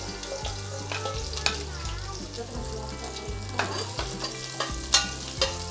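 Garlic sizzles steadily in hot oil in a pan while a utensil scrapes and stirs it with irregular clinks, heard up close and alone.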